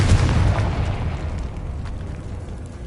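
A Confringo spell explosion in Hogwarts Legacy erupts as a loud, close fiery blast, a heavy boom that rumbles and decays over a few seconds with a crackling tail.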